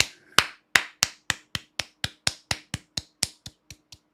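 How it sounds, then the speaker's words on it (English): Steady, evenly spaced claps ring out one at a time, sharp and close, about four per second with no voices. "Golf clap."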